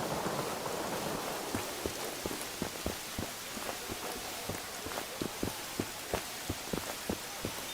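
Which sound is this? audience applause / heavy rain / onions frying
heavy rain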